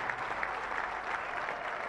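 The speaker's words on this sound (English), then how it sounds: "Let's clap for them." Crowd applause at a Zambian independence anniversary celebration, a dense, steady patter of many hands clapping at a distance, continuous and even throughout.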